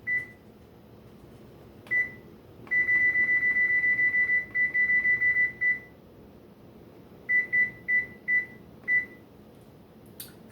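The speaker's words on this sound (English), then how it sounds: "the timer just went off, about 15 minutes." A kitchen timer going off in a home kitchen while fish bakes in the oven, sounding a loud, close electronic beep that holds steady for a few seconds and then breaks into a string of short repeated beeps, with no talk.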